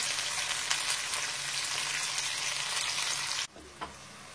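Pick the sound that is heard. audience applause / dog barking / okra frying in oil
okra frying in oil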